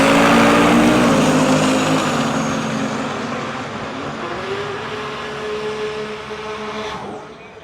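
A red Fox body street race car's engine drones loud and steady at a drag race, its tone gradually shifting as it pulls away, with a sharp rise in pitch near the end.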